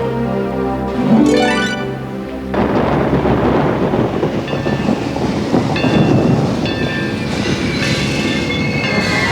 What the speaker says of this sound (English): They stopped the train!